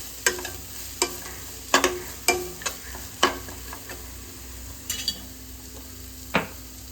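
Cabbage sautés in a pan under a soft steady sizzle, punctuated by about a dozen sharp scrapes and clinks of a spatula stirring against the pan at an uneven pace.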